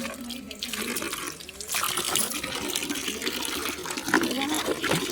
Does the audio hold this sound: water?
yes